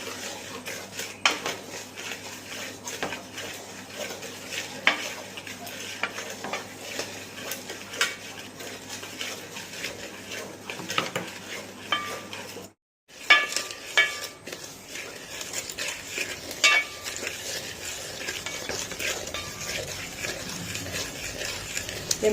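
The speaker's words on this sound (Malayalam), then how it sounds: "ഞാൻ 1 കപ്പ് ഉപ്പുമാവ് റവ ഇട്ടൊന്ന് വറുക്കാൻ പോവുകയാണ്" One cup of upma rava is roasted in a pan in a village home kitchen. A utensil repeatedly scrapes and clinks against the pan while the dry semolina is stirred, with a brief gap partway through.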